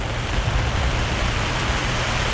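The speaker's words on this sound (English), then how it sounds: "It's raining." Rain falling at an outdoor kart track during an LO206 race weekend, a steady broadband hiss of drops on surfaces, fairly loud and even, with no voices.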